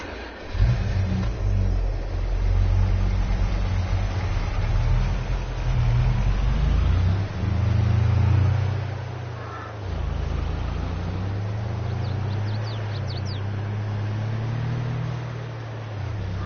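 A farm truck drives across a highway, its engine droning steadily and rising in a few revving surges, heard from inside the cab with no talking.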